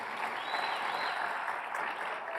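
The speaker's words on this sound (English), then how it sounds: "I want to give another round of applause to our guests." Audience clapping for panel guests at a global AI discussion, a continuous, fairly faint spread of applause heard from a distance in a large hall, steady with no clear individual claps.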